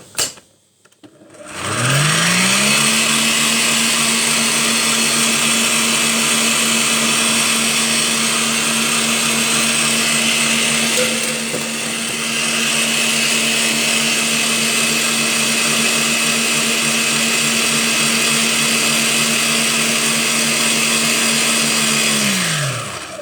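An electric mixer whisks gluten-free meringue with a loud, even motor whine that spins up, holds steady for about twenty seconds, then winds down.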